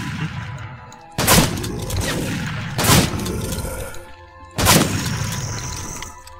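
Three heavy shotgun blasts from the first-person shooter Blade of Agony boom out at uneven intervals, each trailing a short rumbling decay over steady game ambience.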